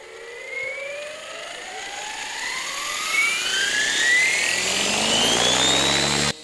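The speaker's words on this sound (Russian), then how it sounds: "проверили, как летают радиоуправляемые вертолеты в условиях высокогорья" Radio-controlled helicopters flying high in the mountains give a loud, rising turbine-like whine with steadily climbing pitch, sustained and fairly close, with no talk over it.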